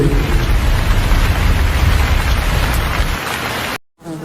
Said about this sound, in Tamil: வெள்ளப்பெருக்கு